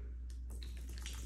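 Water is poured into a cup in a steady splashing stream, loud and close, with the sound shifting as the cup fills.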